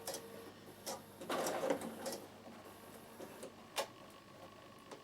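A Bernina sewing machine stitches through very stiff fabric for a peak cap, producing quiet intermittent mechanical whirs and clicks with short bursts and pauses.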